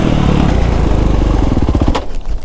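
A 2023 Kawasaki KX450SR dirt bike engine lugs at low revs under smooth throttle, a loud, close, choppy thumping that slows and stutters into separate beats near the end.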